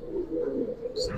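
Old-breed pigeons coo nearby in low, throaty rolling calls that run continuously, with a brief higher chirp near the end and no talking.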